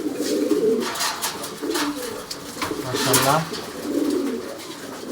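Racing pigeons, a paired female and male, coo in low repeated throaty phrases close by, with someone speaking over and between the calls.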